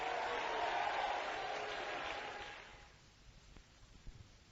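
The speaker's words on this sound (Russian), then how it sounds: "Дайте ему аплодисменты." Applause from a church congregation swells briefly, then fades into quiet room tone with a few scattered claps.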